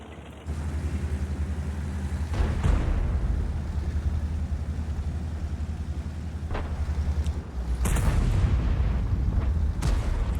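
Heavy tank cannon shots from the World of Tanks game during a competitive esports match boom out as several deep blasts over a constant low engine rumble, with no talking.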